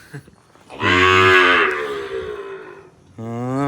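Cows at a cow shelter give loud, drawn-out moos near the microphone. There are two main calls, one long low moo followed after a pause by another that starts up, and no one talks.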